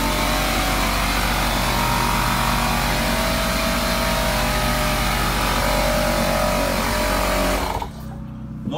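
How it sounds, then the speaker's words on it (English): An air compressor runs in a 2017 Haulmark trailer, a loud, steady motor drone with a rhythmic pumping chatter that cuts off near the end. "So, if I want to turn this compressor on,"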